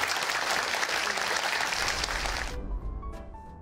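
Comedy show audience applauding, a dense burst of clapping that holds strong for a couple of seconds and then quickly dies away, leaving a faint low rumble.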